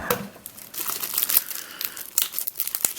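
Taped plastic bags wrapped around Dayan and mf8 megaminx puzzles being pulled open, close-up crinkling with sharp tearing bursts in an irregular, busy rhythm and no talking.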